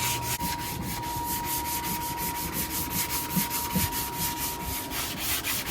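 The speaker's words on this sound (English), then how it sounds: "Do you have to sand it one way or something, or no?" Steady abrasive rubbing of hand sanding on a painted S10 pickup body panel, close and continuous with a regular back-and-forth rhythm, heard alone without talk.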